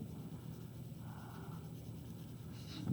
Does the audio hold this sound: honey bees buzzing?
no